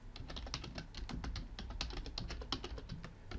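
Fast typing on a computer keyboard while writing a C# console program, with quick irregular clicky keystrokes heard close and fairly quiet, with no talking over them.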